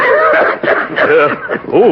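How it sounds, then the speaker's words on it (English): A man coughs and clears his throat hoarsely in a few rough bursts, close and loud, in an old-time radio comedy scene. "That's a bad cough you got there."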